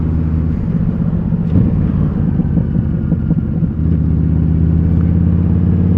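A larger motorcycle passing along Roman Bank road between Mablethorpe and Skegness, a steady, loud engine drone with harmonic hum that shifts pitch as it goes by, heard alongside the rider's own engine.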